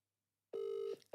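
A WhatsApp call rings on a phone: after a moment of silence, a loud, steady electronic tone sounds and then repeats, close and clear with no voices.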